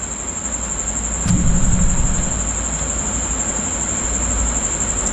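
A video game train from Choo Choo Charles rumbles along steadily with a constant mechanical drone and a high electronic tone, rising briefly in loudness before settling into an even roll.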